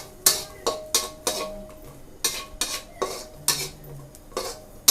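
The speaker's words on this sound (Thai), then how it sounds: "คั่วให้มันสุกนะคะสุก" Thai chili paste and pork are stir-fried in a pan as the spatula clanks and scrapes in a quick, uneven rhythm of sharp metallic strokes, with only faint sizzling underneath.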